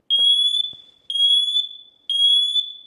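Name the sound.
smoke and carbon monoxide alarm sounding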